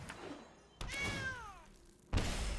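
A cat meows in the MTG Arena video game, a single drawn-out, falling meow set between dull digital thunks and other game sounds at moderate volume.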